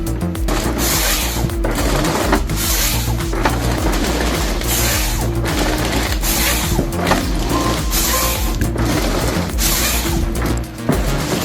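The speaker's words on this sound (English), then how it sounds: "The Tiger Cat 570 grabs a frozen pine like it's plucking daisies." Tiger Cat 570 feller buncher, a 320-horsepower tree machine, gripping a frozen pine in cold weather, heard as a steady loud mechanical grinding with repeated ratcheting clanks and crunching wood throughout.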